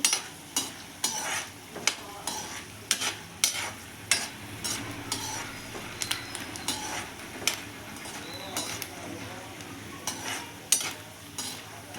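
Peanuts frying in a little oil, a steady close sizzle broken by sharp, regular scrapes and clinks of a spoon stirring against the pan throughout.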